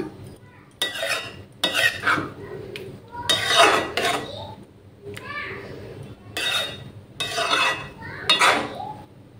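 A spoon scrapes and clinks against a pot as mango pulp is stirred into sewai, in a series of rhythmic close-up scraping strokes, with quiet pauses between them.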